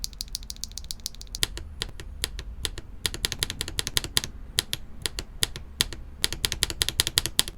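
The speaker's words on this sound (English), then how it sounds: "When you release the key, the upstroke has that pop that you will want to hear over and over again." Mechanical keyboard with poppy switches being typed on, a close, brisk run of sharp clacky keystrokes in an irregular rhythm, each with a crisp pop on release.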